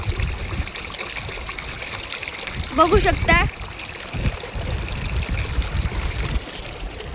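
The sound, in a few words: river flowing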